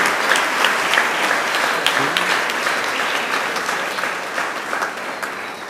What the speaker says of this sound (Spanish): Un aplauso para la hermanita, muy bien.